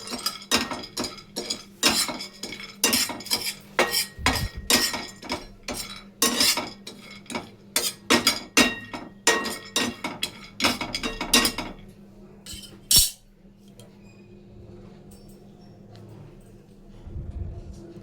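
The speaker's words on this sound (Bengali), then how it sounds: "প্রথমে আমরা কাজুটাকে এখানে একটু নাড়িয়ে নেব।" Cashews stirred while frying in a pan for a paneer masala, giving repeated loud scrapes and clinks of a utensil against the pan for about twelve seconds, then a single sharp clank and quieter background after.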